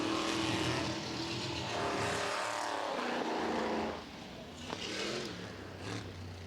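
Race cars run on a circuit, engines roaring loud and close with rising and falling pitch as they pass and accelerate, one car fading before others sweep by.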